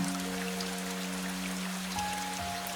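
Soft, steady rain patters on a forest floor and tree trunks at night, with scattered droplets and a faint continuous hum beneath, gentle and even throughout.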